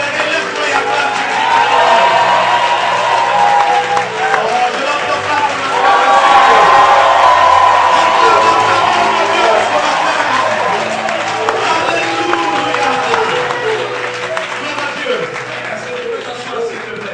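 A church congregation cheers, whoops and applauds in a sustained, loud crowd roar during a Christian worship service, steady throughout with voices mixed into the noise.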